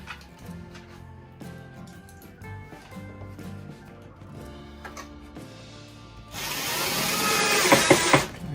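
A screw is driven to assemble a seat, with quiet mechanical clicks and tool sounds over background music, then a loud, steady whirring burst of a power driver near the end.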